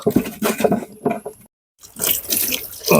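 Tap water splashes and runs while pieces of goat leg mutton are washed in a sink, coming in uneven close bursts with a brief silent gap partway through.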